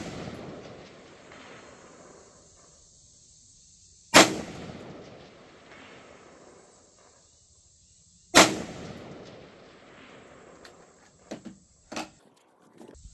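Two loud, sharp rifle shots ring out at an outdoor shooting range, about four seconds apart, each followed by a rolling echo that fades. A few faint clicks and knocks follow near the end.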